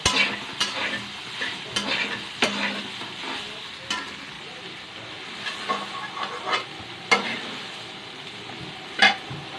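Soybean chunks frying in a pan, a soft continuous sizzle broken by scattered scraping stirs and clinks of a spatula, moderately close, with no voices.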